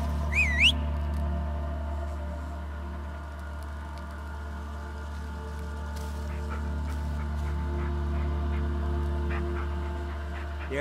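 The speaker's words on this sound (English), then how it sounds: "Yeah, good dog." Bullet the dog in the Blair Witch video game makes quiet panting and a short high whine at the start, all over a constant low ambient hum.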